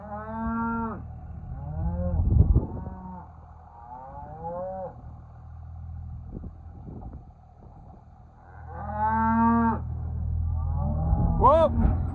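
Cattle moo repeatedly during a farm cow gathering, with loud, drawn-out calls rising and falling in several bursts, some near and some farther off, over a steady low rumble of machinery or a running engine.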